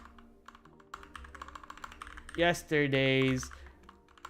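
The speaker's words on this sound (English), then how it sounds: "why am I typing like a caveman?" A computer keyboard clatters in light, uneven taps under a speaking voice, with a brief louder burst of speech near the end.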